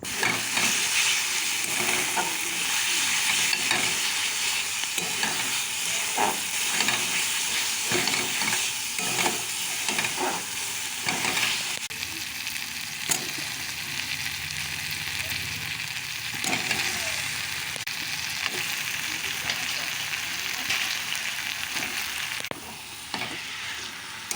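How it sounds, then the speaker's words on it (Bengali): Goat meat stir-fried in a covered pan sizzles loudly and continuously, with hissing steam and frequent scraping stirs of a utensil against the pan throughout. "মাংসটা কিন্তু ঢাকা দিয়ে ঢাকা দিয়ে আমি দুবার ধরে কষালাম"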